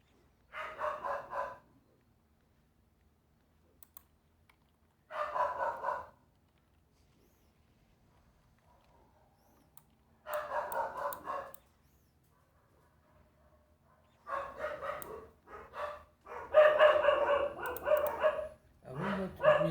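Dogs barking indoors in short separate bursts, then a denser flurry of barks near the end, fairly close and loud with no talk.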